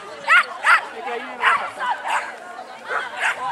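A dog at an agility trial barks in short, sharp, repeated yips, about eight bursts in quick rhythm, close and prominent while a commentator talks underneath.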